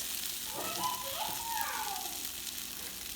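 Spices toast in hot ghee for daal, giving a soft, continuous sizzle with faint bubbling and a few brief whistling tones, heard fairly close and without talk.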